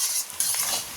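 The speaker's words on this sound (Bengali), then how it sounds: "জিরে তেজপাতা ফোড়ন দিয়ে রসুন পেঁয়াজ কুচি দিয়ে দিয়েছি" Chopped garlic and onion fry in oil tempered with cumin seeds and bay leaf, a brief, even hiss of sizzling with faint stirring movement, close and without voices.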